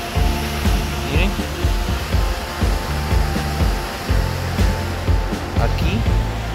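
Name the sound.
waterfall in the mountains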